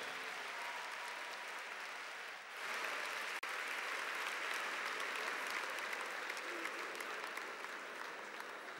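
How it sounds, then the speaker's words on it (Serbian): A large concert audience in an arena hall applauds in a dense, sustained wash of clapping with a brief dip partway through, loud and continuous with no talk over it. "Dajte jedan aplauz lep za ovo dvoje."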